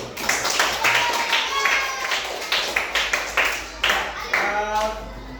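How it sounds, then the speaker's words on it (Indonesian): Schoolchildren in a primary classroom clap for a group, a burst of uneven hand claps running throughout, with voices talking over it. "tepuk tangan untuk kelompok 1"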